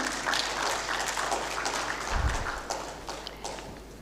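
An audience at an aerospace and defence event claps steadily to welcome a speaker on stage, a dense patter of applause that slowly thins toward the end.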